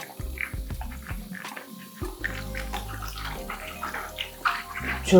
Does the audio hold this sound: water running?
yes